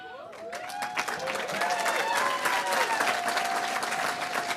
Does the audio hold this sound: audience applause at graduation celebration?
yes